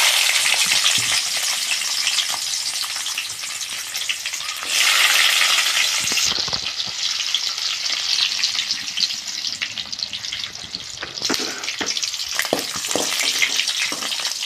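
Garlic fries in a pan with peppercorns, fenugreek and fennel, a loud close crackling sizzle that surges midway, with intermittent stirring scrapes and no talking.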